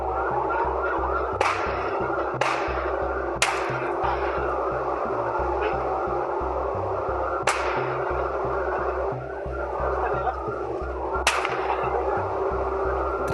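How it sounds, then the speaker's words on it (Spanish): Gunshots fired from the passenger side of a black pick-up truck at a trailer truck: five or six sharp, loud cracks spaced irregularly over a steady droning siren-like tone. "Del lado del copiloto, un hombre comenzó a dispararles."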